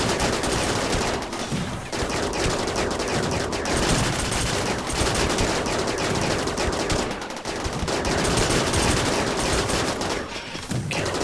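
Phaser cannons and other energy weapons fire in rapid sustained bursts during a RimWorld battle with the RiftWorld mod, a dense crackling barrage with brief lulls.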